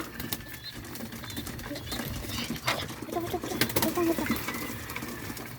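Hungry pigeons coo softly and intermittently close by, mixed with rustling and occasional wing flaps, while a person talks quietly in the background.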